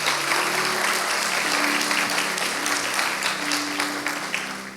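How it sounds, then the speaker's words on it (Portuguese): A church congregation applauds after a scripture reading, with sustained, even clapping that fills the room and fades slightly toward the end while faint voices sit beneath it. "Posso ouvir uma salva de palmas da palavra de Deus?"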